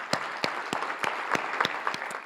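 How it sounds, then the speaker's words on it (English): Students receive a round of applause from an audience at a school event: a sparse run of sharp, distinct claps, evenly spaced and fairly close, with no one speaking. "Let's give them a round of applause."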